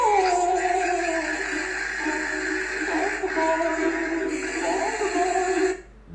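A dog whimpers and whines continuously for several seconds in a creepy setting, a high, wavering, plaintive cry with short yelping rises, fairly close and loud.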